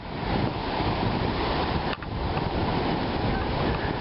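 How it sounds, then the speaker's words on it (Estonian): Rough sea waves surge and crash continuously, a loud steady roar of wild surf mixed with wind buffeting the microphone, with no voices heard. "Tegelikult on soe, aga laine on metsik."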